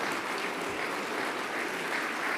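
An audience at a Javier Milei cabinet meeting applauds steadily, a dense wash of clapping that holds evenly loud from start to finish with no voices over it.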